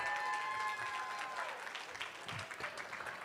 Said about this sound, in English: Let's hear a round of applause for the final match of the day.